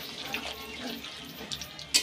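Water is poured into a pan of simmering meat curry, making a brief, soft splashing and gurgling over faint sizzling.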